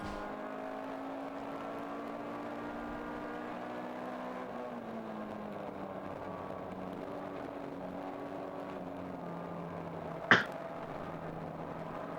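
Endurance race car accelerating out of turn 6 at Gingerman Raceway, its engine droning steadily from inside the car as the pitch shifts through gears, with one sharp knock near the end.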